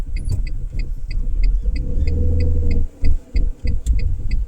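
Car engine pulling away in first gear during a driving-test route lesson in Bila Tserkva: a loud steady engine rumble and hum inside the cabin, with a repeating electronic beep over it and a few throbbing surges near the end.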